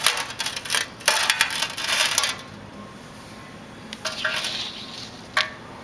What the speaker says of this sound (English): So there's a gasket coming out